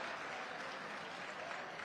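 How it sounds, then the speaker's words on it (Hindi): A crowd claps in welcome at the inauguration of a flyover bridge in India, producing a steady, dense wash of applause heard from a distance, faint but continuous and without talk. "जोर से तालियां ऊपर उठा करके हाथ स्वागत करिए आप"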